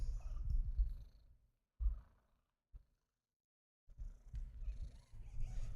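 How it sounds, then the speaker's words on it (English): A low, rumbling purr from a cat up close, in steady waves with a couple of brief pauses and a quiet stretch in the middle. "Can you guys hear her purring?"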